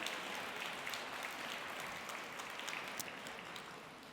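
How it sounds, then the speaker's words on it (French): Guests at an evening fellows' dinner applaud the serving staff, a soft, dense patter of many hands clapping that stays even, then gradually fades toward the end. "On peut peut-être applaudir les gens qui nous servent ce soir, le service."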